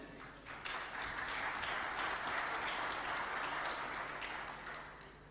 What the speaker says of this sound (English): a thunderous round of applause for them